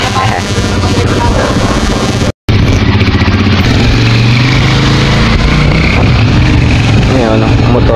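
A motorcycle engine drones loudly, close by, as the bike passes through a flooded street, with a brief dropout in the middle and voices mixed into the steady roar.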